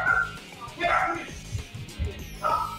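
A dog yips and barks in short, uneven bursts with whimpering tones, fairly close, several calls over a few seconds alongside background voices and game sounds.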